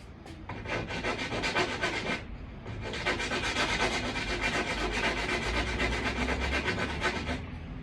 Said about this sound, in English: So what I'm going to do is go ahead and sand that down a little bit.